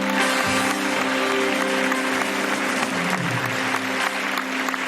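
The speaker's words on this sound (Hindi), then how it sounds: "तालियां।" Studio audience applause during a talk show episode, a dense, steady clapping close by that fills the whole stretch, with a sustained tonal hum underneath.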